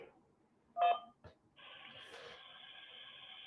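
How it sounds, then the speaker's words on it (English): A single telephone keypad tone sounds after an automated prompt to press 1 to accept a call on a live hotline call-in show, followed by a steady, sustained tone. "To accept, press 1."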